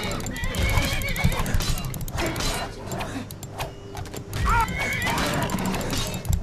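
A horse whinnies and snorts amid hoofbeats and busy game sounds in the video game Skyrim, with a voice talking over parts of it.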